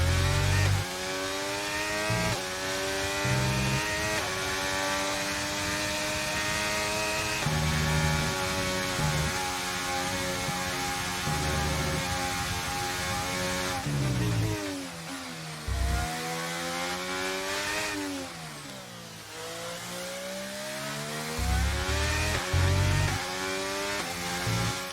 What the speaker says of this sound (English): Got a really interesting engine sound